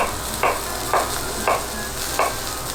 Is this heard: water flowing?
no